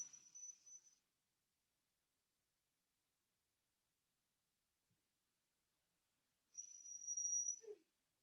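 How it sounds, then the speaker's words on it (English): Dog whistles indoors: two thin, high-pitched whines, one brief at the start and another lasting about a second later, separated by near silence and fairly faint. "I'm sorry about the whistling dog."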